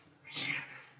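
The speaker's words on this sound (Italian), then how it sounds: "Scusate per il gatto." A house cat lets out a single drawn-out meow, quiet and slightly distant, heard alone in an otherwise still room.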